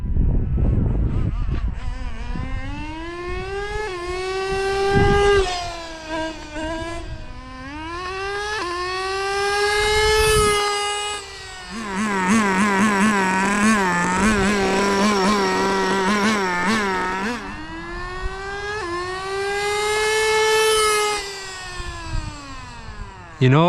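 Nitro-powered 1/10 scale Nismo GTR RC car with a two-speed gearbox, its small engine whining loudly through repeated rising revs and brief drops, buzzing close by for the whole stretch.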